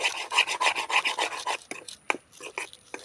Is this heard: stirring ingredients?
yes